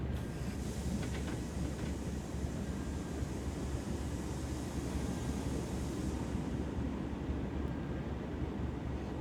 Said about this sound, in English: I guess there's a train in my platform.